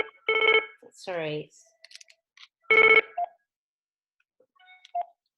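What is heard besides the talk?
phone ringing with incoming call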